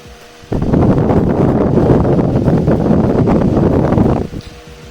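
A floor fan switches on with a sudden rush of air, whirs steadily for a few seconds, then cuts off.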